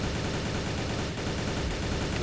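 Dense, continuous gunfire from the video game Truy Kich fills the whole stretch as rapid automatic fire with no pauses and no voices.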